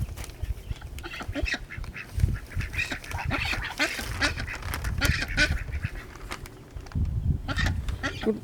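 Buff Orpington ducks quack and honk close by in a lively flock, with overlapping calls in uneven bursts and a short lull near the end.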